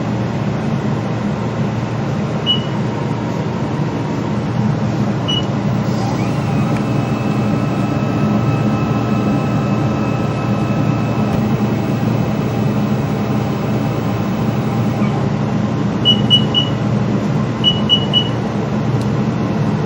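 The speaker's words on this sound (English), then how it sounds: "we can go ahead and start spin coating." A spin coater whirls a photoresist-coated wafer, giving a steady, even whirring drone with a faint thin whine over it and a few short electronic beeps, no voices.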